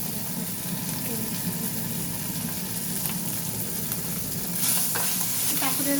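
Pasta with spices sizzles and fries in a pan while being stirred, a continuous loud crackling hiss with occasional scraping as it is moved about.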